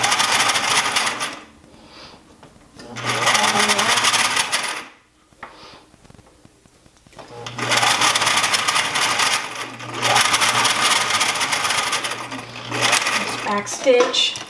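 A sewing machine stitches a garment seam, loud rapid mechanical chattering in several long runs separated by short pauses, close up, with a person talking in the quiet gaps.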